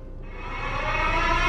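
A siren wails in a Siren Head setting, a sustained rising electronic tone that climbs and swells louder over its short span, heard alone with no talk.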